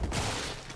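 Gunfire in a cyberpunk bar-night video game, a short dense burst of shots that fills the whole moment and stays loud and close throughout.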